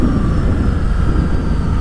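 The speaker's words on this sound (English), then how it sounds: "this has really good engine braking" A 2016 Ducati Scrambler Sixty2 motorcycle holds a steady, loud engine drone while engine braking, a continuous low rumble with faint wind noise running throughout.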